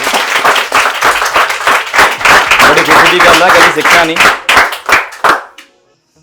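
An audience in a computer coaching centre breaks into loud, close clapping that fills the room for several seconds and then tapers off to silence, while someone talks over it.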